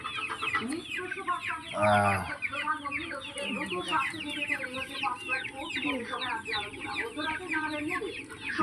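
Backyard hens clucking and murmuring close by in a steady busy stream, with one louder squawk partway through and the flock's chatter continuing throughout.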